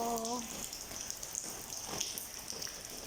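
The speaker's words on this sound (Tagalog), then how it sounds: "Ayan, ganito pag umulan dito." Steady rain patters on a surface, a soft continuous hiss with scattered drops, a brief tonal sound at the start.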